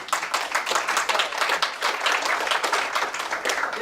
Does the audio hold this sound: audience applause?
yes